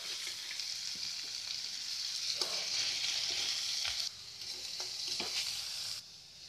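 Onions with salt and sugar fry in a pan, a bright continuous sizzle with occasional scraping stirs and utensil knocks, close and fairly loud.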